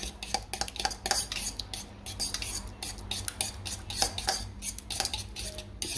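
A utensil clinks and scrapes against a bowl while an olive oil marinade for Portuguese-style spatchcock chicken is stirred, a quick irregular run of close metallic taps with no talking.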